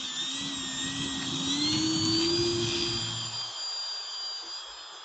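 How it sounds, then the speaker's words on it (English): An E-Flite Turbo Timber Evolution RC airplane flies at sunrise, its electric motor giving a loud, steady whine that shifts in pitch as it passes, then thins out as it moves away. "let's go outside and do another flight on this Turbo Timber Evolution"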